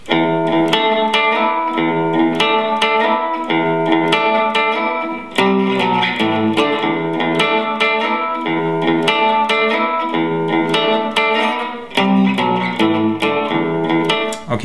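Electric guitar played through a chorus effect, a rock riff with the open low E string repeatedly picked, full and shimmering with steady rhythm, loud and continuous with no talking.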